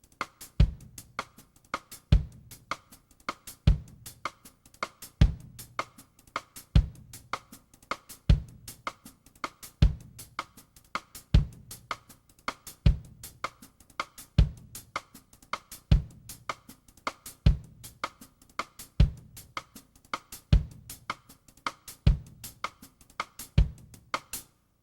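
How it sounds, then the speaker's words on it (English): A drum kit groove with the hi-hat played by foot on beats 1 and 3 and the bass drum on 2 and 4, a steady even pulse of sharp hits at a moderate tempo, clear and unaccompanied. "I'm playing the hi-hat on beats 1 and 3 with my foot, and then the bass drum's playing on 2 and 4."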